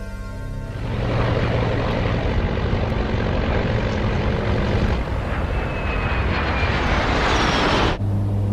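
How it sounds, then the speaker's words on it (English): Colgan Air twin-turboprop airliner, Continental Connection Flight 3407, flying en route from Newark to Buffalo, a loud steady propeller and engine drone with a rising whine, close and continuous with no talk. "Continental Connection Flight 3407, operated by Colgan Air, is en route from Newark, New Jersey to Buffalo, New York."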